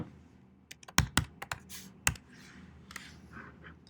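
Clicky keystrokes on a computer keyboard as a GitHub username is entered, a few sharp taps in an uneven burst followed by lighter scattered presses, close and fairly quiet with no voices.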